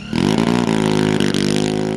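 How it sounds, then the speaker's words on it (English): Shadow UAV engine on a pneumatic launcher before a reconnaissance mission, a loud steady droning buzz that swells briefly then holds at a constant pitch, close and alone. "The engine roars as it prepares to launch into the sky to perform a remote reconnaissance mission."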